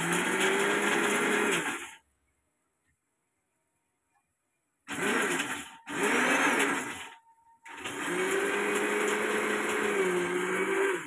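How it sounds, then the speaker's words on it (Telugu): A mixer grinder grinds cashew nuts into powder in loud, whirring motor bursts: a two-second run, a pause, two short pulses, then a longer steady grind. "జీడిపప్పు మిక్స్ కొడుతున్నా"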